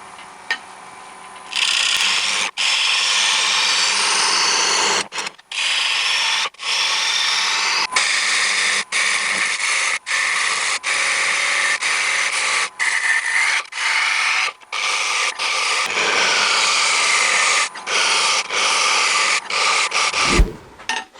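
A bowl reverse-chucked in an SC4 chuck with 75mm deep jaws gets its face turned on a wood lathe at about 1,000 RPM, a 7/8 inch bowl gouge cutting in a loud continuous rasp broken by brief pauses.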